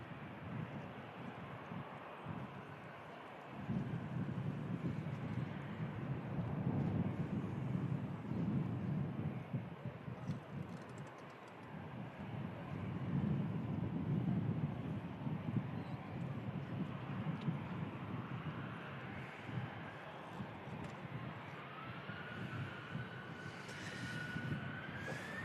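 An EasyJet airliner spools up and takes off from runway 05 left at Manchester Airport, bound for Amsterdam: a steady, distant jet roar that swells and holds, with a rising whine near the end.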